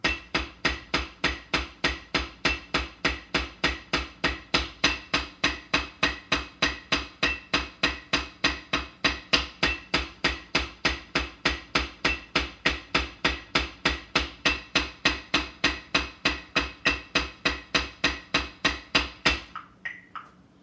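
Drumming in a fast, even stream of sharp strikes, sixteen notes played by one hand before trading off to the other, continuing steadily for about nineteen seconds at consistent loudness before stopping.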